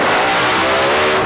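A drag racing car engine roars at close range for a brief moment, a loud dense revving blast that fills the whole clip without pause.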